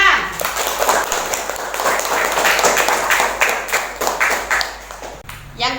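Primary school students clap together in an Indonesian classroom, a loud, busy burst of overlapping claps with voices mixed in that thins and turns more rhythmic toward the end.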